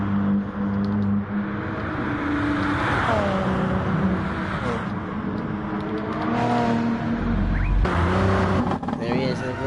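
A race car engine on a qualifying lap at Lake Maggiore in a WEC round, droning steadily with shifts in pitch as it accelerates, under continuous commentary.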